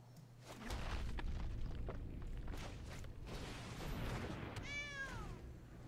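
A cat meows in the MTG Arena card game, a short rising-and-falling cry near the end, loud and alone over steady game background sound.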